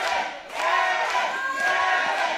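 A wrestling crowd at a UCW Zero event cheers and shouts for the stepbrothers, a loud, dense roar that swells and holds steady throughout.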